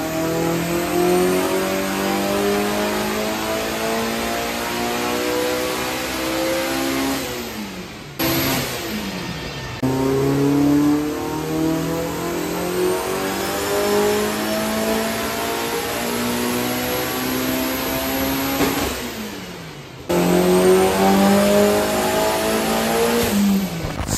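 Rebuilt turbocharged car engine on a dyno run at about 19 PSI boost, revving hard and loud through three long climbing pulls, each ending in a sharp drop before the next, no talk.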